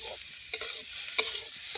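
Eggs sizzling in a frying pan as they are stirred, a soft continuous hiss with three distinct spatula scrapes, close up and with no voices.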